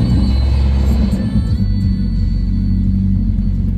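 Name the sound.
car engine starting and idling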